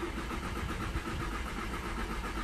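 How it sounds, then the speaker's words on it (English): The 2.0 TDCI diesel engine of a Jaguar X-Type with a flashing glow plug light, limp mode and cutting-out fault runs steadily. It makes a dense, even, close mechanical clatter with no talking over it. "I'm gonna try to start the engine."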